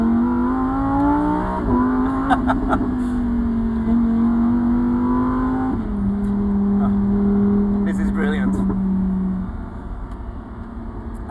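A Lamborghini Huracan STO, a rear-wheel-drive supercar, roars at full throttle while being flicked into a drift, its engine note holding high and steady before stepping down, with someone speaking briefly over it.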